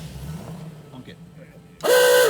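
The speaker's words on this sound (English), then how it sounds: "Honk it." A 1929 hot rod's horn blares loud and steady near the end, a sustained two-tone blast after a stretch of low idling rumble and background chatter.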